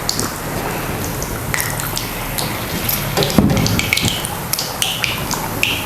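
Battered chilapi fish pieces drop one by one into hot oil for a village-style fry, giving a continuous close sizzling hiss with sharper spits and crackles as each piece goes in.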